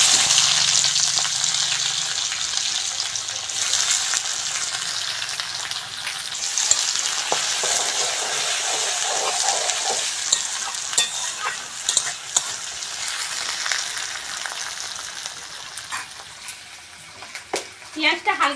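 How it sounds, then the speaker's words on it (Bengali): Onions frying in hot oil, a steady close sizzle that runs throughout with occasional stirring scrapes and clicks near the end, and a voice speaking briefly at the start. "ওই তেলের মধ্যে পেঁয়াজ দিয়ে দেবো।"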